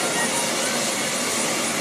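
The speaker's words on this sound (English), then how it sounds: "Arriving by helicopter is Sergeant Major Gary M. Little." A helicopter arrives for an Armed Forces Day parade and celebration, its engine and rotor making a loud, continuous broadband roar that holds steady throughout.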